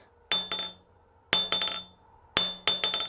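Three sets of hammer blows land on a small 22 lb Acciaio steel anvil, each a sharp ringing strike followed by a few quicker bouncing taps, bright and metallic with short decays and quiet gaps between.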